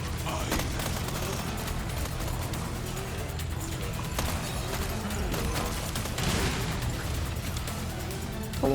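Rapid gunfire and bursts from weapons in the Resident Evil 4 Remake Mercenaries mode, dense and continuous across the whole stretch with layered game sound effects and a few sharper pops standing out.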